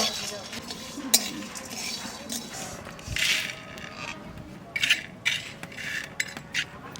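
Dry chilli, cumin, coriander and pepper roast in a dry pan, heard as light scraping and clinking of a utensil against the metal with faint crackle, fairly quiet and irregular.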